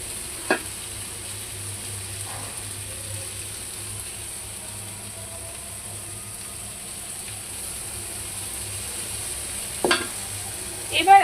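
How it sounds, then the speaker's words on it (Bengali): Vegetarian patal kaliya curry is sautéed and stirred in a pan with a low, quiet sizzle, broken by a few soft scrapes and knocks from the spoon, which grow a bit busier near the end. "আমি এখন এটা ভালো করে কষিয়ে নিব, তারপর ফিরে আসছি।"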